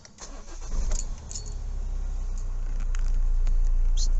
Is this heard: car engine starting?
yes